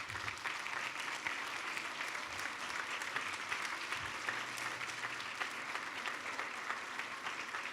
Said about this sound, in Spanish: Démosles un aplauso de honra a estos hermanos.